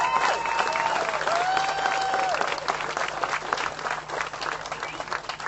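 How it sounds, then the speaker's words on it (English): Sustained audience applause fills a religious gathering in Charlottesville, a dense wash of clapping at steady loudness with faint tonal sounds drifting over it. "you should give yourselves a round of applause"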